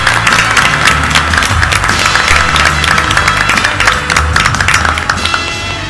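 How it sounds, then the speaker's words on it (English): An audience at a corporate game show claps for a contestant coming up, dense sustained applause throughout, loud and close. "Give her a big round of applause."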